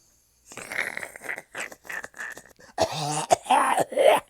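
A woman coughs and groans in strained bursts, followed by harsher choking, moaning sounds, close and loud, with pauses between fits.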